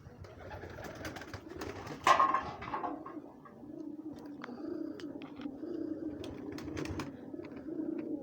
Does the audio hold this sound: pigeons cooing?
yes